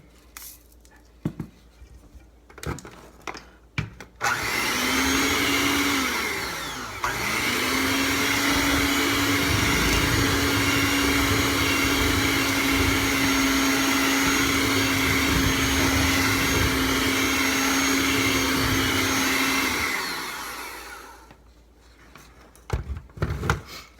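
An electric mixer whirs through cake batter in one steady, loud run of about fifteen seconds, starting and stopping sharply, with small handling clatters before and after.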